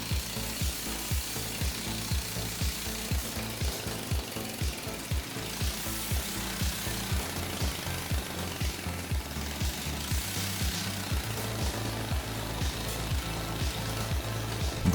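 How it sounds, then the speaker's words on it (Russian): A homemade 17 hp 450cc quad bike engine with a CVT variator revs up, giving a dense, steady mechanical clatter with fast rhythmic pulses that hold for the whole stretch at close range. "Попробовал дать обороты, чтобы вариатор полностью проделал всю работу и поменял передаточные числа."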